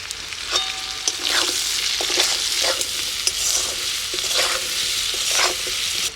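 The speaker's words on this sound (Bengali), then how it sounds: "আলুটা একটু ভেজে নিচ্ছি আলুটা হালকা ভেজে নিলাম" Potatoes fry lightly in hot oil with turmeric and salt in a village kitchen, a loud continuous sizzle broken by the scraping strokes of a spatula stirring through the pan, close up with no voices.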